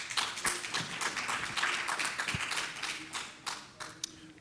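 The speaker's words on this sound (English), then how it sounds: "Please give them a round of applause." An audience at a community economic development panel applauds the panelists, fairly quiet and thin clapping from a modest crowd with scattered distinct hand claps and a few sharper knocks mixed in.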